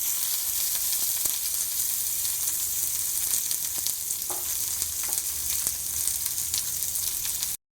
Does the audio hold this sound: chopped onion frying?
yes